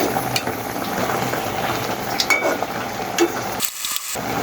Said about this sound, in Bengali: শাকটা নাড়াচাড়া দিয়ে দিচ্ছি।